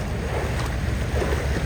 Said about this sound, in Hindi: एक और क्रूज़ आ रही है वहाँ से